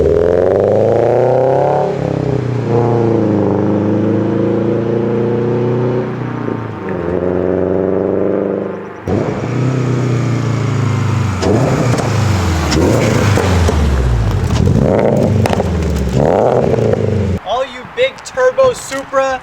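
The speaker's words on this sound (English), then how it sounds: "I have a really loud exhaust" A 2022 Subaru BRZ with a loud exhaust revs repeatedly inside a garage, its pitch climbing and falling in several close, loud sweeps, with a person talking at points.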